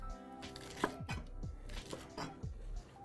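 A knife chops Chinese cabbage lengthwise on a cutting board, a close run of about seven crisp thuds in an uneven rhythm, with no talking.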